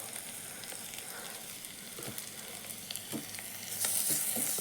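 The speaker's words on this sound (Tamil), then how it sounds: "நல்லா பச்சை வாசம் போகிற வரைக்கும் வதக்கி எடுத்துக்கோங்க" Tomatoes with garam masala and pepper sauté in a pan, a dense even sizzle close up and moderately loud, swelling slightly toward the end, with no talk.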